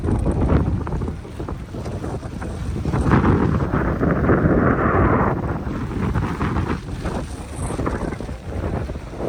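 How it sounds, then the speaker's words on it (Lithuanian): Heavy wind buffets the microphone in loud, gusting bursts at a beach on Zakynthos, Greece, with the wash of the sea faintly underneath; no one speaks. "Ojoj, vėjas."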